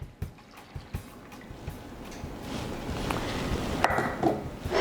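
Melted butter is poured into a big mixing bowl for a White Texas sheet cake, starting as a few soft drips and taps, then becoming a quiet continuous trickling pour, close and faint with no talking.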